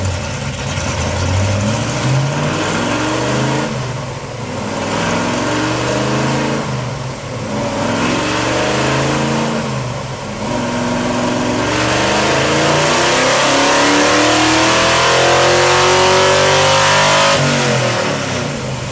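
A 1960s Big Block Chevrolet 396 V8 street performance engine revving hard and loud, its pitch rising and falling in repeated throttle sweeps with short dips between pulls, sustained for the whole stretch with no talk.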